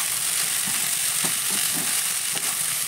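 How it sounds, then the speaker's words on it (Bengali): Pre-fried egg bhujia stirred into pasta in a hot frying pan: a constant close sizzle with a few short scraping strokes of the spatula, and no talking. "ডিমের ভুজিয়াটা ভালো করে একটু মিশিয়ে নেব।"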